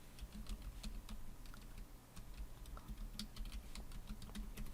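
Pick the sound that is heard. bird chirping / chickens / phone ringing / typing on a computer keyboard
typing on a computer keyboard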